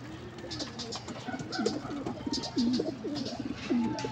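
Pigeons coo inside a large cage, several soft, rolling coos repeating in an uneven rhythm against a faint background hum, fairly close and without talking.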